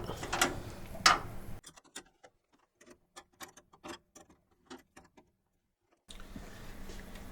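A hand-held open wrench tightening a hex nut while assembling a BC-3500A coin changer kit, heard as a run of small, sharp metallic clicks and ticks in an uneven rhythm, close and fairly quiet, between stretches of room noise.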